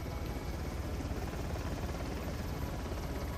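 A helicopter in the video game Uncharted: The Lost Legacy gives a loud, continuous rotor drone and rumble, steady and close, with no talking.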